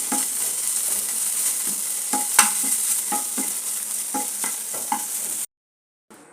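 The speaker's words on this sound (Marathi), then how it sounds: "त्यानंतर हा खोवा पण जरासा आपल्याला परतून घ्यायचा आहे." Khoa milk solids being lightly sautéed in a pan: a steady bright sizzle runs throughout with repeated scraping stir strokes at a regular pace, then cuts off abruptly near the end; no voices.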